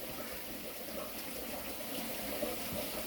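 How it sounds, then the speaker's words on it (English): Hot water pours steadily into a cooking pot during mashed potato preparation, a constant soft hiss and splash with no pauses and no talking. "Put some water in this. Hot water, because it will stick."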